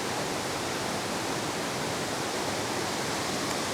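Rushing water of Burn Creek on an alpine backpacking route, a loud, steady broadband roar that fills the whole moment close by with no break.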